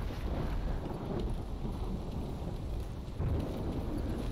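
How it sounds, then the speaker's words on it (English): Thunderstorm in the video game STALKER: a steady, dense roar of rain and wind with low rumbling thunder swelling near the end, loud and continuous with no voices. "I do like the storms in this game."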